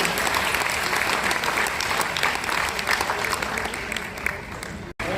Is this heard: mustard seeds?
no